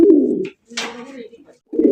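Baghdadi pigeons, a pair, give deep, close, throaty coos in short repeated bursts separated by brief silences.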